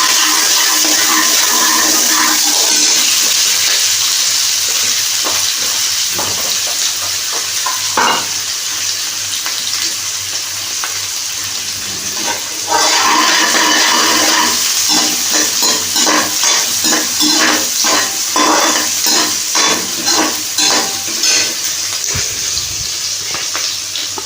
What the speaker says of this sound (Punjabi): ਤੇ ਲੋ ਜੀ ਪਿਆਜ਼ ਪਾਤੇ ਹਨ ਵਿੱਚ ਦੇ